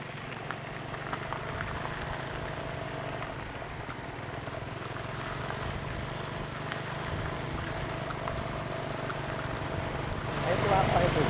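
A dredging boat works on floodwater covering a submerged village, giving a steady low engine drone with broadband churning and rumble that holds throughout and swells near the end.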